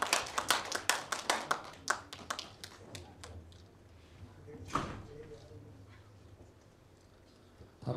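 Audience applause at a Korean folk song (minyo) competition award ceremony, a burst of dense clapping that thins into scattered claps and fades, with light background chatter.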